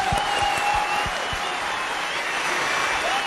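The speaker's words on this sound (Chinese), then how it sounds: "来，给点掌声可以吗？" Audience applause fills a dating-show studio, a steady dense clapping that holds at an even level for a few seconds, with a few sharper claps near the start.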